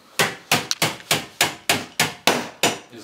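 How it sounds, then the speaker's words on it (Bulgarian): Nails are driven with a ratchet used in place of a hammer while assembling IKEA furniture: ten sharp, evenly spaced strikes about every third of a second, close and loud. "Забиваме пирони с трещотка."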